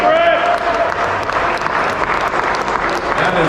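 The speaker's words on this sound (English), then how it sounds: "A round of applause for this young man right here" An audience applauds at a charity head-shaving event in St. Louis, with loud sustained clapping and crowd noise, and voices talking over it.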